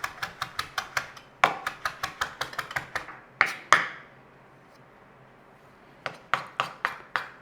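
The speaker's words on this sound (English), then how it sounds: "So I've got all that, and we're going to chop it all up." A knife chops ingredients for a chicken Kiev pie on a board, with quick bursts of sharp close taps, a pause, then another short run of chops, with no talk.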